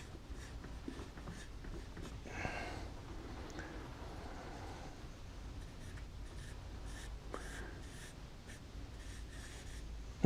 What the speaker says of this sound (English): Here I'm going to erase a little bit on this side.